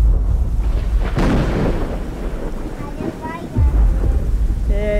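Thunder rolling with steady rain in the horror game Slender: Mansion, a loud rumbling crack building near the start over continuous rainfall.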